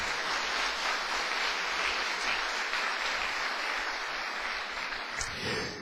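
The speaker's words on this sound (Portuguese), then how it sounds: "Uma salva de palmas para o Senhor Jesus." A church congregation claps together in sustained, dense applause that holds steady and fades slightly near the end, with no voices over it.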